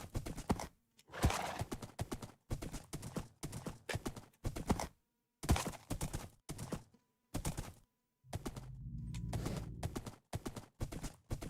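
A horse in modded Minecraft trotting with crisp, repeated bursts of clip-clop hoofbeats separated by short silences, followed near the end by a drawn-out whinny, all close and clear.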